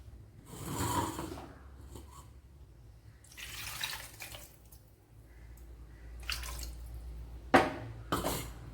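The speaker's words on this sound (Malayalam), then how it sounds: "അപ്പോഴിനി ആവശ്യത്തിന് വെള്ളം ഒഴിച്ചൊന്ന് കലക്കിയെടുക്കണം നല്ലതുപോലെ." Water poured into a pot of Kerala-style tuna fish curry and swirled in, a few splashy bursts of pouring and mixing separated by quieter gaps, ending with a sharp clink.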